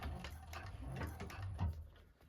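A 1341 cylinder arm sewing machine back stitching on a bag, faint rhythmic mechanical whirring and clicking of the needle drive running steadily and close by, with no voices.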